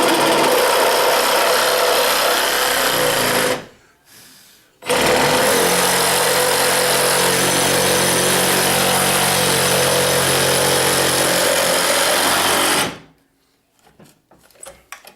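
A DeWalt DCS380B cordless reciprocating saw fitted with a short blade cuts through clamped wood. It makes a loud, steady buzzing rasp that runs for several seconds, breaks off briefly, then starts again and carries on before stopping.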